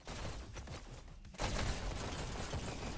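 Dense, rapid gunfire from SMGs and pistols in a competitive VR e-sports shooter match, a continuous crackling burst that briefly thins and then surges louder for the rest of the moment.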